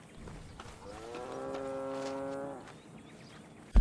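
Cow in the video game Red Dead Redemption 2 gives a single drawn-out moo lasting about two seconds, clear and fairly close over quiet ambience.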